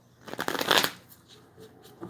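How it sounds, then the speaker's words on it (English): A deck of tarot cards is riffled and shuffled by hand, a close, crisp burst of flicking card edges followed by a few softer taps and slides as the deck settles. "give them a couple more shuffles"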